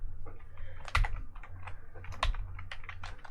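Rapid typing on a computer keyboard during a Linux command-line scripting session, a steady run of close, crisp key clicks with two heavier strikes standing out, heard alone.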